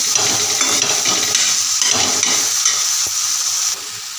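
Eggplant sautéing in hot oil in a pan for bharit, a steady loud sizzle and hiss with occasional stirring scrapes, continuous throughout and easing slightly near the end, with no talking.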